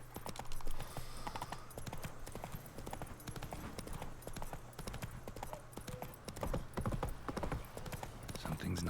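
Hooves clip-clop steadily as Roach, Geralt's horse in The Witcher 3, walks along, a continuous rhythmic plodding heard close with a low background hum and a brief whinny early on.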